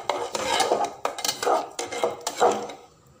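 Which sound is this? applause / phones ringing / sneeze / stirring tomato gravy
stirring tomato gravy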